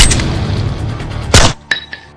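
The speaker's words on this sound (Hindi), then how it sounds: "जैसे ही ठुमके लगे वैसे ही धाएं धाएं गोली चलने लगी" Gunfire at an orchestra dance show in Motihari: one loud sharp crack cuts through music and crowd noise, followed by two fainter metallic clanks.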